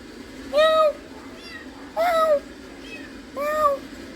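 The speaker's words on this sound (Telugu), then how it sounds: "ఇప్పుడు పిల్లి అక్కడ కూర్చుండి మియా మియా అంటుంది" A small cat sits near an evening oil-lamp ritual and meows three times, each call a clear rising-falling cry spaced about a second and a half apart, close and fairly loud over a quiet background.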